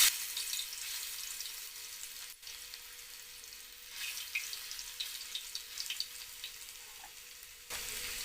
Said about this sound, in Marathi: आपण 1 चमचा तेल घालून घेते। मी यामध्ये अद्रक लसणाची पेस्ट घालून घेते।